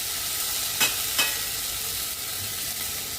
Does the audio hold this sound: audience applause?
no